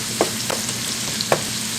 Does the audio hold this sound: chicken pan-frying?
yes